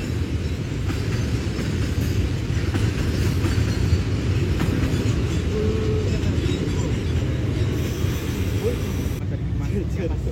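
A train hauled by locomotive DC 03 9504 rolls past at Bandung, a loud continuous low rumble with wheel noise holding steady throughout, with a faint squeal partway through.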